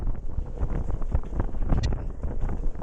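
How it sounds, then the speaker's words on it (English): Strong wind buffets a microphone aboard a small boat on Cardiff Bay, a steady loud gusting rumble with waves and hull noise beneath and a brief metallic creak. "you can see the wind now pushing the front of the boat backwards and forwards"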